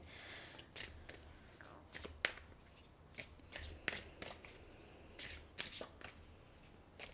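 Oracle cards shuffled close at hand, giving a series of sharp papery slaps and flicks in an uneven rhythm, fairly quiet against a soft background hum.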